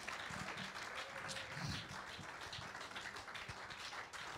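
Thin, scattered clapping from a church congregation, faint and uneven, with a few taps and murmured voices mixed in.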